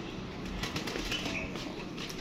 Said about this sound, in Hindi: ये कबूतर है माशाल्लाह जी, देख लें दोस्तों, बड़े बच्चे उड़ रहे हैं यार